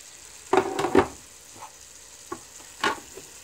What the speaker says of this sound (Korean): 넣고 미역하고 소고기와 같이 볶아줍니다